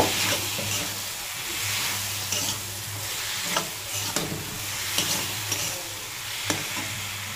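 Green and red chili paste frying in a pan on the stove for a Bengali mourola fish jhal, a steady sizzle with scattered scraping stirs and a low hum beneath.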